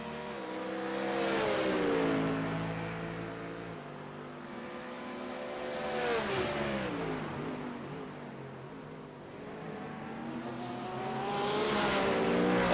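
GT3 race cars, a Mustang among them, roar through S-bends on a Detroit circuit, engines rising and falling in pitch as several cars pass in succession, loud and close.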